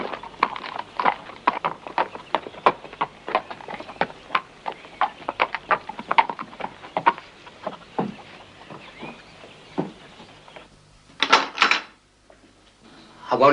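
Horse hooves clip-clop in a steady rhythm at close range for most of the stretch, slowing and fading before a couple of sharp knocks near the end.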